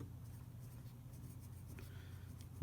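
A Noodler's Ahab flex fountain pen with a fine nib scratches across paper at a regular writing pace, a faint, continuous soft rasp with small stroke-by-stroke variations.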